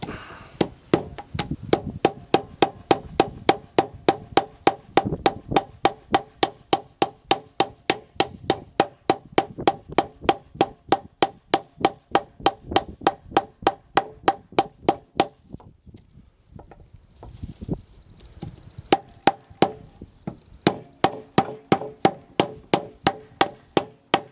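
A CRKT Pazoda 2 knife is batoned through a knot in a piece of wood, making a steady run of sharp, loud wooden whacks. A brief pause falls near the middle, then the close, rhythmic striking resumes.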